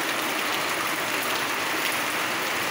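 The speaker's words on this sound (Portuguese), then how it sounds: "Esse barulho de chuva é muito bom, né, gente?" Heavy rain pours onto house roofs in a city, a dense, steady hiss of countless drops that stays loud and unbroken throughout.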